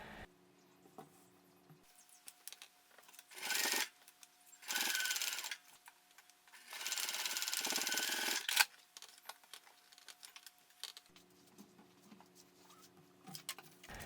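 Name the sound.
sewing machine stitching backpack straps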